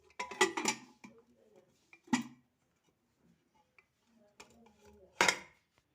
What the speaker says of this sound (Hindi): से ऐसे प्रेसर कुकर के आम ढापी देमा